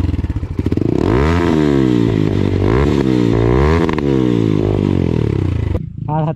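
A dirt bike with an RTR engine revs hard up and down through its exhaust, loud and close, the pitch sweeping in repeated throttle blips before cutting off sharply, followed by a brief clatter.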